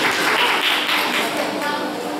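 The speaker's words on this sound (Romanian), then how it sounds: "Renata, noi te susținem și te aplaudăm" An audience applauds a singer named Renata at a folk music festival competition in Dumbrăvița, producing a dense, steady clapping that holds loud for about two seconds, with a voice speaking over it.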